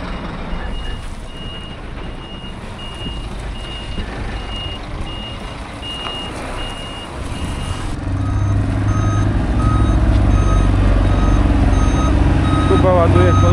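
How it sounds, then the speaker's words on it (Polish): A truck arriving at a farm to load potatoes, its reversing alarm beeping steadily at a regular pace while the engine rumble grows louder and heavier toward the end, with voices underneath. "A tu wjeżdża następna ciężarówka po ziemniaki."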